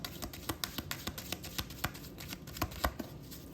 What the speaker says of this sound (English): All right, so we're gonna give this a shuffle.